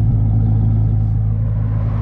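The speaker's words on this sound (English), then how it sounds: "You can hear the exhaust." A Sting Red VY SS Commodore with a manual gearbox idles, its exhaust giving a steady, deep, even rumble close by with no talking over it.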